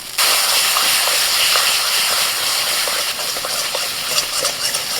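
Ground lentil paste dropped into hot oil tempered with spices flares into a loud, abrupt hiss that holds steady as a dense sizzle, with small crackles scattered through it.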